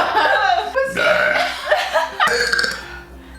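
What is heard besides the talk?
burping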